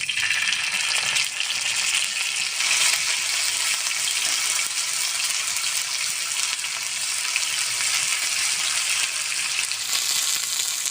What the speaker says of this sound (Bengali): মশলাটা সুন্দর করে ভাজা হয়ে গেছে,